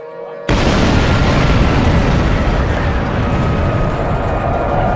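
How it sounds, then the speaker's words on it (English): A sudden explosion booms in after a short silence, then gives way to a loud, sustained roaring rumble that fills the remaining seconds. "the sight of the explosion lit up the sky and caused their ears to ring"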